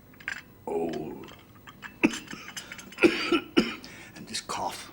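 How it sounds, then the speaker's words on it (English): A man coughs repeatedly in short harsh bursts, close and fairly loud, with throat-clearing sounds between them in a quiet indoor room. "And this cough."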